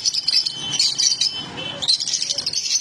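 Lutino rosy-faced lovebirds chirp in a busy flock, a dense run of high, shrill tweets that stops briefly midway and then picks up again, close and fairly loud.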